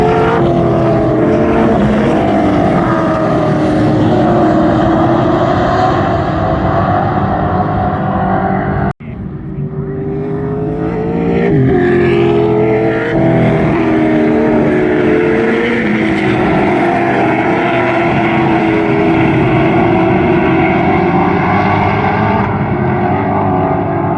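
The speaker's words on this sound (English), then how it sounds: "This is the V8 supercars" V8 Supercars, Camaros and Mustangs, roar past at Carco Raceway in Perth, a loud continuous engine drone that rises and falls as cars pass, with a brief dip before the pack returns.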